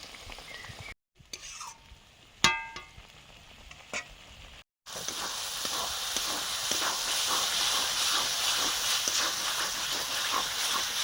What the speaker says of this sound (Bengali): বেশ খানিকটা জল দিয়ে দিলাম মশলাগুলো কষানোর জন্য।